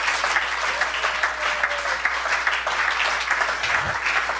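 Church congregation applauding together in acclaim of the Lord, a dense, steady wash of clapping that fills the whole stretch without pause, loud and close.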